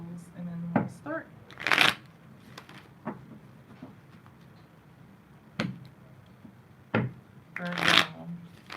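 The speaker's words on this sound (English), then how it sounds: "A couple more shuffles and then we'll start." Tarot cards are shuffled in two quick riffling bursts, close and crisp, with a few light taps and card handling between them while a voice talks softly in the background.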